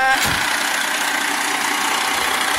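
Fire engine 16 idling at close range, a steady, loud broadband rumble with a constant hum that holds evenly throughout with no pauses.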